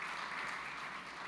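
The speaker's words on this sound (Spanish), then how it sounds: "un aplauso" Faint, steady applause from a literary discussion audience, a soft continuous patter of many hands, heard distantly and briefly with no voices on top.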